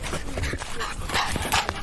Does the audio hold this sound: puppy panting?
yes